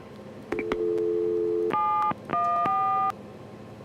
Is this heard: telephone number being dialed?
yes